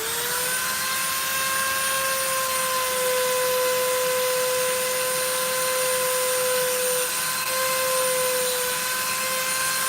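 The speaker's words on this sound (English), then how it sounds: "My Dremel is spinning this way, so it wants to go in this direction." Dremel rotary tool carving a full head mask, a steady high-pitched motor whine held at a constant speed throughout, close and loud with a faint grinding hiss underneath.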